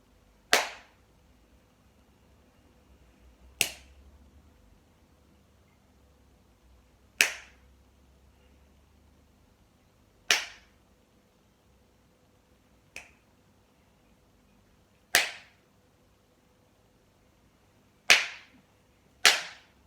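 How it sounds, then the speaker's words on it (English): Eight sharp, isolated hand claps at irregular spacing during a conducting workshop exercise, each crisp and close, separated by near silence and one noticeably softer than the rest. "You just clap when you think I want you to."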